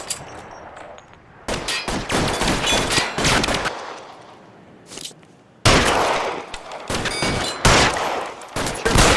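Rapid bursts of video game gunfire from L.A. Noire, loud and close, with heavy volleys of shots broken by short lulls, then more sustained firing toward the end.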